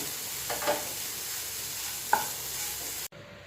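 Beetroot poriyal stirred in a pan, a low steady sizzle with two brief scraping strokes of a spatula, ending abruptly near the end; no voices.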